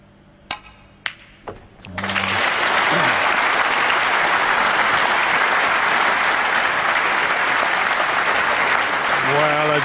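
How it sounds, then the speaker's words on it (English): At the 2009 Masters snooker match between Stephen Maguire and Neil Robertson, a few sharp knocks give way to a sudden, loud, sustained round of audience applause that fills the hall and keeps going steadily to the end. "a generous round of applause for a superb shot"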